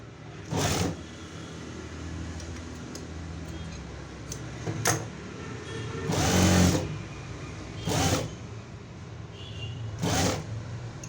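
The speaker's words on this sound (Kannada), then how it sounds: "ಇದನ್ನು ಮಡಚಿ ಸ್ಟಿಚ್ ಮಾಡ್ಕೊಳ್ಳೋಣ" A sewing machine stitches a folded seam on a princess-cut blouse in about five short, separate bursts of whirring, each a second or so long. Quieter handling gaps fall between the bursts.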